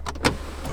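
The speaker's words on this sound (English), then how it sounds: "that's some typical sunroof stuff, but actually quite a rare option in a Porsche Panamera" Electric sunroof motor on a Porsche Panamera whirring briefly inside the cabin, a short soft mechanical hum with a slightly louder pulse near the start, no voices.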